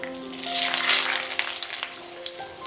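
Cinnamon stick, small cardamom pods and a bay leaf frying in hot oil for a Bengali chhanar dalna, giving a steady close sizzle with a brief crackle near the end and no talk.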